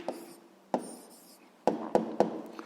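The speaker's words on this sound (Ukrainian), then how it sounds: "записуємо відповідь" A pen writes an answer on paper in a physics exercise, with several sharp taps and scratchy strokes separated by quiet pauses, close and moderately loud.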